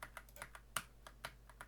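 A worn, nearly broken computer keyboard clicks in a quick irregular string of light taps, close and fairly quiet, with one sharper press standing out.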